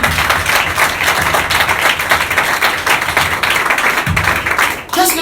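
A church congregation claps and cheers throughout, dense and loud, with the applause thinning briefly near the end.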